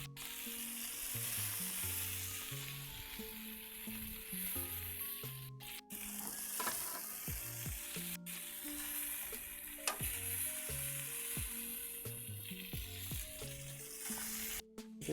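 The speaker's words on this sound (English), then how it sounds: "I'll put the naan bread down and it'll kind of cook in the lamb fat" Naan bread frying in lamb fat on a grill griddle, a steady loud sizzle crackling continuously throughout with scattered sharper pops and spits.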